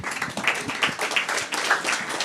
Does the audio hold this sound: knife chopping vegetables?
no